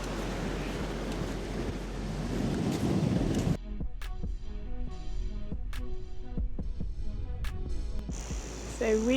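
Wind buffeting the microphone outdoors on Green Island Reserve by the coast, a heavy rumbling roar for the first few seconds that then drops to lighter gusts under scattered clicks.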